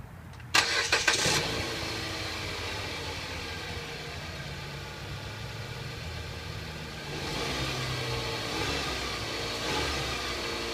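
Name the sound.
Dodge Avenger car engine starting up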